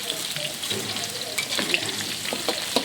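Garlic frying in a pan for pork caldereta, a close, steady crackling sizzle with a few sharper pops and soft scraping from stirring, with no voices over it.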